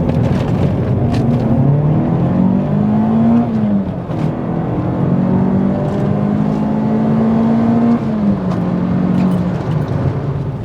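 A Peugeot 306 GTI hot hatch from the 1990s drives along a wet British country lane, its engine droning loudly from inside the car with rising and falling pitch as it accelerates through the gears.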